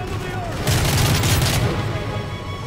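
Rapid gunfire in Call of Duty: Modern Warfare 3, a dense burst of overlapping shots and low booms in the middle of the stretch, with game noise and voices around it.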